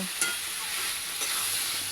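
Masala for a koi fish curry with vegetables and lentil nuggets is stirred and sautéed in a pan, with a steady close sizzle broken by a few scraping stir strokes and no talk.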